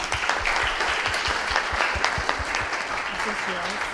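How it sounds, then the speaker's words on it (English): A conference audience applauds in a dense, steady wash of many hands, with some louder individual claps near the front and murmuring voices underneath. "another round of applause, please"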